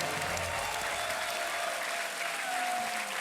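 Sustained studio audience applause on the Hindi quiz show Kaun Banega Crorepati after a contestant wins 3,20,000 rupees, a steady dense wash of clapping at even loudness throughout with no talking.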